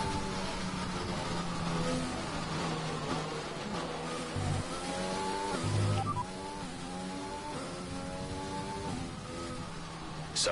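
An F1 car in F1 2020 laps the Russia circuit, its engine droning steadily at high revs with gear changes and shifting pitch, moderately loud and with no talk over it.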